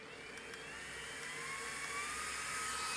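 A battery-powered waist fan with five speed levels runs with a steady, faint whir and airy hum that swells slightly over a few seconds, with no voices.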